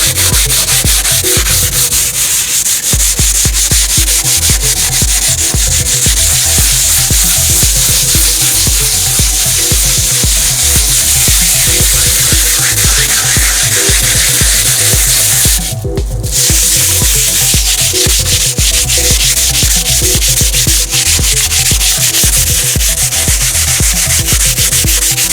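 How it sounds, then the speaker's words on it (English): Hand sanding with 80 grit sandpaper to strip oxidation fog, a loud, continuous rapid scratching rub close up, briefly pausing midway before resuming. "This is an 80 grit sandpaper that I'm starting with."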